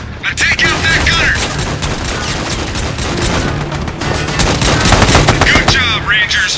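Dense video-game gunfire from Army of Two, a military training scene set around Mogadishu, with rapid machine-gun bursts and loud booms layered over each other throughout, beneath a voice talking.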